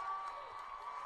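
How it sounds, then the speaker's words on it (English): A crowd in the stands at a high school football game, West Sioux against Central Lyon/George Little Rock, gives off a steady, distant murmur and cheer with no distinct peaks. "The crowd's getting fired up"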